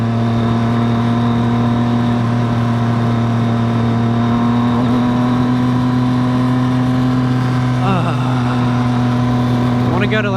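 A Yamaha MT motorcycle engine hums steadily while riding through a slow speed zone, a loud, close drone with a strong, even pitch and only slight throttle changes.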